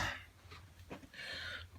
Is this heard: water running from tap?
no